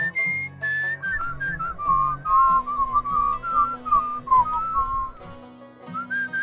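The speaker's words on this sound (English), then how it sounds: "I'm not very good at whistling the songs" Someone whistles a song in a video game setting: a clear, wavering melodic line of up-and-down phrases that runs continuously and stands out over a soft, low musical backing.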